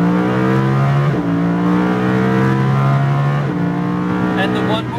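A Lamborghini Huracán accelerates hard on a race track, its engine note climbing through rising revs with two brief upshift dips, loud and close throughout.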